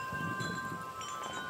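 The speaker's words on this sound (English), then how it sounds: "It's getting pretty windy here." Wind blusters outdoors, a low, rumbling rush buffeting the microphone steadily and faintly throughout the short moment, with no voices.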